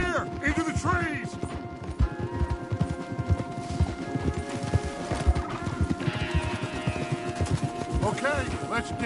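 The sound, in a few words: horses galloping, from the video game Red Dead Redemption 2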